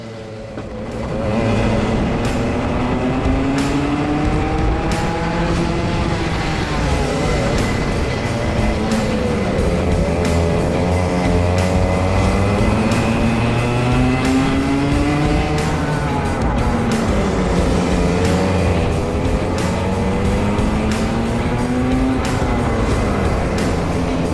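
Club 100 racing karts start a race, a pack of small engines revving together and rising and falling in pitch as they accelerate, loud and continuous throughout with no talk.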